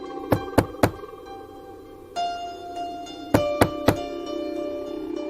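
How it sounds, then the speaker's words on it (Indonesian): Knocking on a front door: three sharp knocks, a pause over a sustained eerie musical tone, then three more knocks, distinct and close, with no speech. "suara ketukan pintu depan terdengar"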